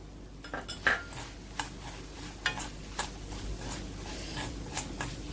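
Sambar powder being stirred into a pan: a spoon scrapes and clinks against the metal in uneven strokes over a low background sizzle, close and fairly quiet, with no talking.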